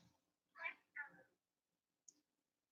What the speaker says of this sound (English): have a little cat that wants to go outside,